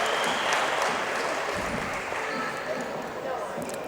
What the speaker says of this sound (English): Now we'd like to give a big round of applause to the Southside Lady Southerners